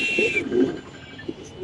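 White Spanish pigeons kept with their eggs give soft, throaty coos in a few short rolling bursts, close by, with a faint higher tone fading early and no talk.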